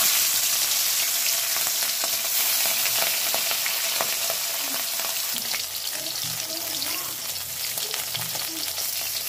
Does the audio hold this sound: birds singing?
no